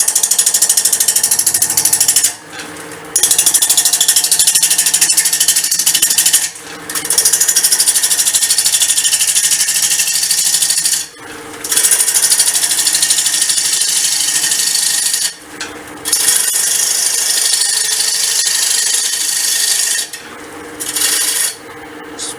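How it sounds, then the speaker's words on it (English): A wood lathe turns a natural-wood bowl against a 1/2 inch bowl gouge, giving a loud, steady scraping and grinding drone broken by several short pauses as the tool lifts off the spinning blank. "Just using a 1/2 inch bowl gouge. Okay, and I'll just true it up first."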